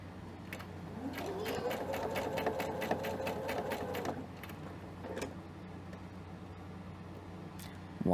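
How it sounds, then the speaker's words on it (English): A sewing machine stitches a placket in a rapid, even mechanical chatter that runs for several seconds and then stops, followed by quieter handling noises and a faint click. "We are then going to sew across and back down the other side."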